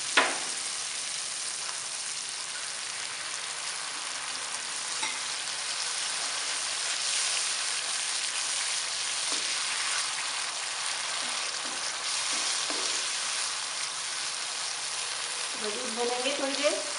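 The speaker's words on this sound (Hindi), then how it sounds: "थोड़ी देर भूनने के बाद इसमें दही शामिल कर देंगे" Masala for fish curry frying hard in a pan, a dense, steady crackling sizzle running the whole time with faint stirring knocks, loud and close.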